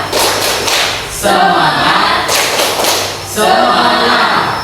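Students in a classroom perform a rhythmic group spirit clap, loud bursts of many hands clapping in unison with thumping accents, repeating in two clusters, with some voices underneath.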